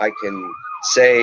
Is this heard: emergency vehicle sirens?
yes